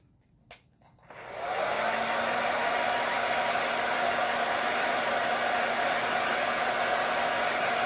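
A hair dryer clicks on and blows with a steady, loud whooshing hum that continues without a break while drying craft paint.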